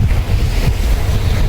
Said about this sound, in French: petite balade sur la plage de Wahin.